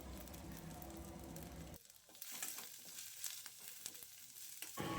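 Onion, curry leaves and green chillies fry in a pan: a quiet, even crackling sizzle with brief shifts and small stirring ticks, heard alone at low level.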